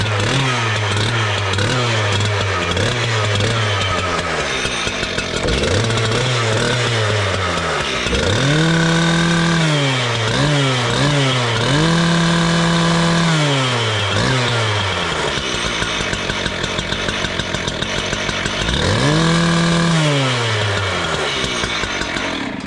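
A close 026 chainsaw runs loud after starting, its two-stroke engine revved up and down repeatedly in rising and falling bursts, with a rough idle between them.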